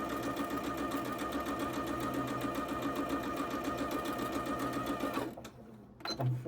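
A sewing machine runs steadily and close by while stitching a scrappy Christmas pinwheel quilt, a continuous whirring hum for about five seconds that then cuts off to near quiet with a brief clunk.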